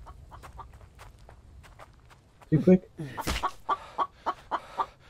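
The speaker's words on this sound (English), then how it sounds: "now I can hear a chicken" A chicken clucks in the video game The Infected, a run of short, evenly spaced clucks close by after a louder flurry, with footsteps and someone briefly speaking.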